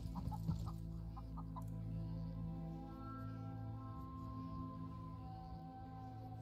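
Chickens on a farm in The Last Farmer video game cluck softly in the background over a steady low ambient hum, with a few brief louder clucks near the start.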